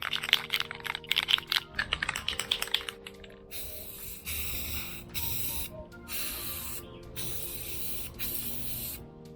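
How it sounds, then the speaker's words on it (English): Several short bursts of aerosol spray paint hiss loudly onto plastic motorcycle fender trims, each lasting about a second, preceded by a rapid clatter of clicks and taps. "It is now time for me to spray the two plastic trimmings"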